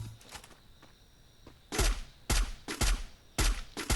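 Gunfire and a grenade launcher in the Free Fire video game, with four loud, sharp blasts in quick succession after quieter scattered shots and game sounds.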